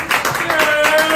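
Audience at an open mic at The V-Spot in Scranton claps, a short burst of scattered hand claps from a small crowd, close and loud, with a voice briefly talking over it.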